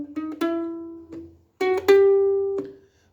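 A short plucked ukulele melody, the opening notes of a theme, a handful of bright notes ringing and fading, in two phrases separated by a brief pause.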